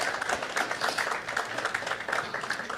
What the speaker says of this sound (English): Let's give Hema a round of applause for making some time.